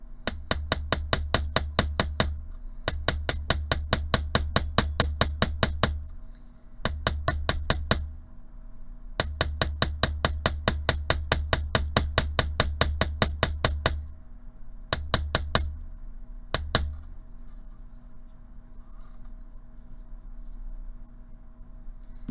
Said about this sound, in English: if you don't want to hear me hammer, because it is going to make noise